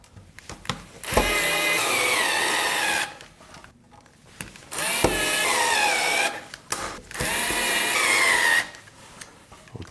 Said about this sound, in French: Je suis pas sûr que ce tournevis s'apprécie beaucoup.